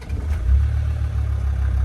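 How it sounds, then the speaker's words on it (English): Land Rover Defender 90 TD5 county station wagon diesel engine running steadily just after start-up, a deep low rumble with faint clatter, close and continuous. "quick video start up and running on this 90 TD5 factory county station wagon"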